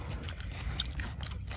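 Biting and chewing on grilled chicken cooked over a fire in a forest at night, a close, steady mouth-noise crunch with soft chewing textures and no talking.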